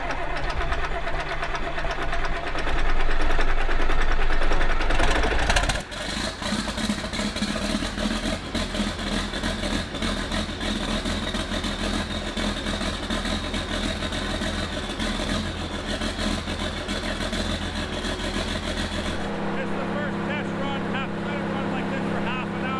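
A rebuilt John Deere 4430 tractor engine runs nearby with a steady, rough diesel idle, swelling louder briefly near the start. The tone shifts toward the end as the engine note drops.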